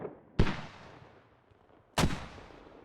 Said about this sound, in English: Bunny's on the mortar by himself